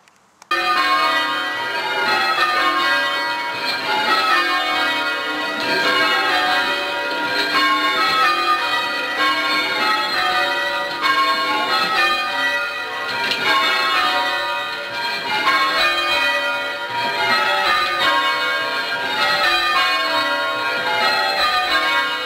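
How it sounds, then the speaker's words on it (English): Full peal of six church bells ringing from the tower of St Peter's, Siddington, Gloucestershire, loud and continuous with overlapping rhythmic strikes throughout, no voices. "Siddington Church Tower, the next tower on our trip. Six bells."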